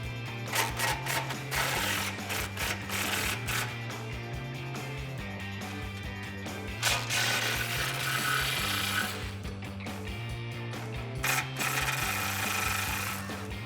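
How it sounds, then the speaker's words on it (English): Steady ratcheting clicks close up as 13mm bolts holding a 2015-2019 Ford F150 EcoBoost intercooler core are loosened, the rhythm of repeated wrench strokes under workshop noise. "Now you're ready to remove your 13mm bolts that are underneath holding your intercooler core in."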